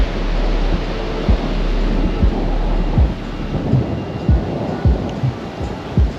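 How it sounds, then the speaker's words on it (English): Ocean waves crash on Fort Lauderdale Beach in a steady, loud broadband roar, with deep rumbling surges breaking every second or so and no voices over it. "Waves crashing in the back."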